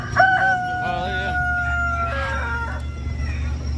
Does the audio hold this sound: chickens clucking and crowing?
yes